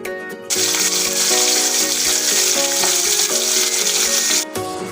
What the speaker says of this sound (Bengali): মাছ ভাজা আমার হয়ে গেছে